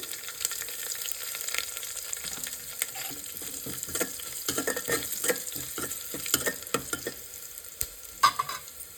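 Dried red chillies and asafoetida fry in hot oil with mustard and cumin seeds for a tempering, giving a steady close sizzle with scattered crackles and scraping stirs.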